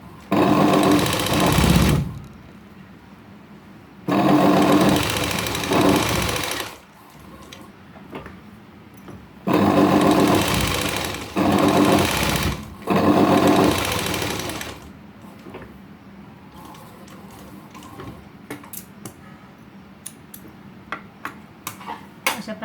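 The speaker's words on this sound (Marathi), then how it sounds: "ह्याच्यावर शिलाई मारून घेऊया" A sewing machine stitches a blouse sleeve for a butterfly-style sleeve design. It runs in four loud, steady bursts of about two to three seconds each, separated by pauses, then gives way to scattered light ticks and clicks.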